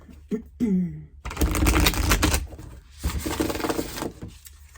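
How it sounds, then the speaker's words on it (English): Oracle cards shuffled by hand for a reading, a dense papery riffling and rubbing that runs in two close bursts after a few soft taps, alone with no talk. "I'll give them one more shuffle just here on the channel."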